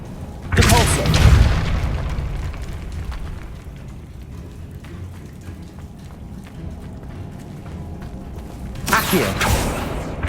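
A Depulso spell is cast in Hogwarts Legacy on PS5, sounding as a loud, booming whoosh burst near the start. A rumbling game ambience follows, and a second burst comes near the end.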